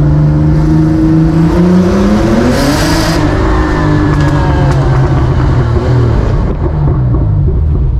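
A Porsche 911 930 Turbo engine drones loud and close, its pitch rising as the revs climb, then settling into a steady rumble.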